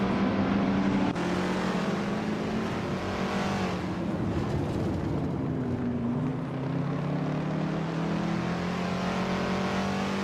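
Racing cars, among them a 2011 Volkswagen Polo GT, in a racing video game, with steady engine drone and shifting revs from several cars throughout, fairly loud with no talk.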